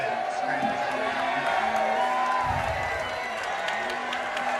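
A crowd cheers at a Dalton High School football game against North Murray, a steady roar of voices heard from a distance with some talk mixed into it.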